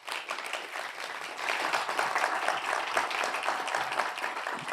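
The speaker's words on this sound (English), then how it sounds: "a round of applause for our panel" Steady applause from a seminar audience greeting a panel on careers education, a dense wash of many hands clapping that swells after a soft start and holds at moderate level, heard at a distance with no talk over it.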